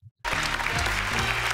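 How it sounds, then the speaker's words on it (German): Loud, dense applause from a live audience for climate activist Luisa Neubauer, bursting in after a brief pause and sustained throughout, with a few faint voices mixed in. "Macht einen großen Applaus für Luisa Neubauer."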